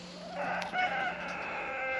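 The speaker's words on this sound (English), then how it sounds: "you can hear my other rooster" A rooster crows in a drawn-out call at moderate distance, with other fowl sounds and farmyard background around it.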